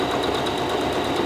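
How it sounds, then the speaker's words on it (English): A sewing machine stitching a blouse seam, right sides together, running steadily at speed with a fast, even mechanical whir and tapping throughout, close up with no voices. "the first step now here is to attach them together, right sides together on a seam"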